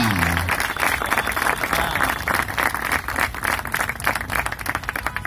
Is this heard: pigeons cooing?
no